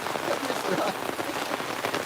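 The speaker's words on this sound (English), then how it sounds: "I'm telling you, this rain is ferocious. I'm under the canopy." Heavy rain hammers down on a canopy overhead, a dense, steady, close roar of drops that keeps up without pause and has no voices over it.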